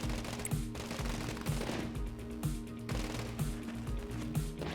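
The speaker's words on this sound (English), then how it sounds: "every 3 seconds, I'm tossing a cluster of grenades in random directions" Grenade clusters exploding in the zombie game Deadly Days: Roadtrip, a rapid repeating series of loud thumping blasts at roughly regular intervals over continuous game noise.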